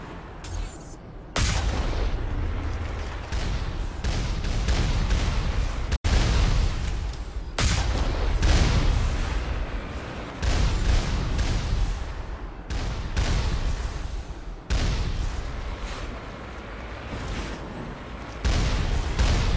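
Turrets in a video game open fire in repeated heavy bursts, one dense, booming salvo after another with brief gaps between volleys, loud and close with no talking.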